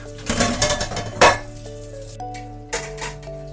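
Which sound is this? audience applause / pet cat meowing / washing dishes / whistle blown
washing dishes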